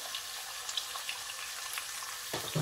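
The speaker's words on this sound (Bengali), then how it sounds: "বিনস আর গাজরটাকে জাস্ট আমি 1 মিনিটের মতো একটু কুক করে নিচ্ছি।" Beans and carrots fry in a pan, a faint, steady crackling sizzle throughout with a brief stir near the end and no voices.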